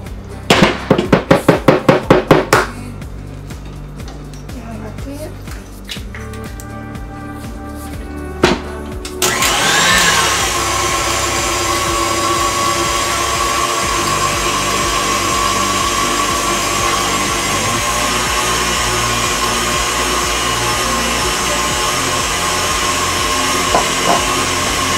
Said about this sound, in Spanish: Batiendo lo que son los huevos y el azúcar